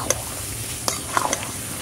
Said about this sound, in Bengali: এবার এটাকে ভালো মতন কষাতে হবে